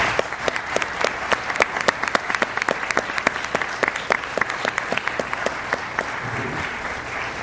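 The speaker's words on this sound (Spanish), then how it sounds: "les pido por favor que les brindemos un aplauso de bienvenida" A welcoming round of applause from the audience at a political forum with Frente Amplio coalition candidates, dense sustained clapping with sharp individual claps standing out, steady and fairly loud for the whole stretch.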